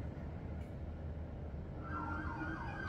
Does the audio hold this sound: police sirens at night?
yes